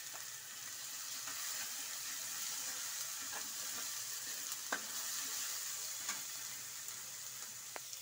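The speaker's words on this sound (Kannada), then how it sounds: "ಎಣ್ಣೆಯಲ್ಲಿ ಸ್ವಲ್ಪ ಫ್ರೈ ಆಗಬೇಕು." Garlic-ginger paste and green chili paste fry in oil for masala idli, making an even, continuous sizzle with occasional faint ticks and pops, close and without speech.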